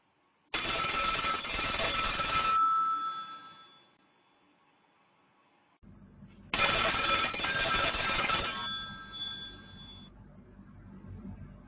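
A telephone rings in two long bursts separated by a pause of a couple of seconds, each ring loud and bright with a buzzy metallic trill that lingers briefly as it dies away.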